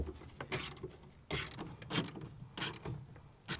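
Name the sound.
tightening tonneau cover brackets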